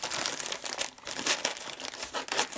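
Polyethylene film packaging sealed with tape being unwrapped around a bicycle camera ordered online, close, loud crinkling and rustling with tearing bursts, continuous and irregular, with no talk.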